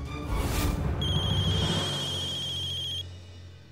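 A telephone rings in an Indian TV drama serial. A shrill electronic ring buzzes for about two seconds after a burst of noisy sound, then stops abruptly.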